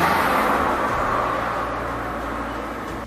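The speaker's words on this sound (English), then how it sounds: "Now Turtle's race car goes even faster." Turtle's race car in an animated kids' story speeds up with a steady rushing roar that holds loud and then slowly fades slightly, with no voices over it.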